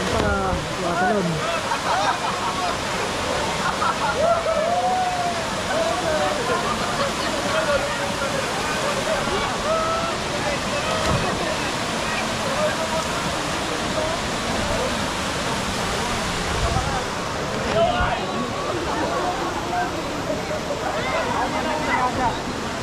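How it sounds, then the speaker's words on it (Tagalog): Bolinao Falls 3 waterfall in Pangasinan rushes steadily as a continuous roar of falling water, with people talking and calling out over it nearby. "ito yung falls dito sa Bolinao Falls 3"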